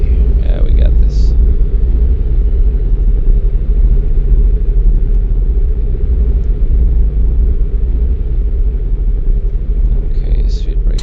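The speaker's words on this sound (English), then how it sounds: "Reversers, full power." Full-power thrust reversers on an MD-80 airliner during landing roll in the X-Plane 11 flight simulator: a loud, steady low engine roar that holds throughout, with a person talking over it.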